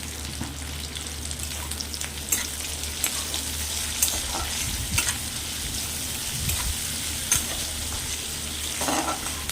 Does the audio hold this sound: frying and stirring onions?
yes